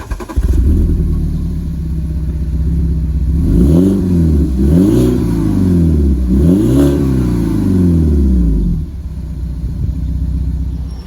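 A BMW E92 320i fires up and settles into a deep idle, then its throaty exhaust booms through three sharp revs before dropping back to a low rumble and cutting off.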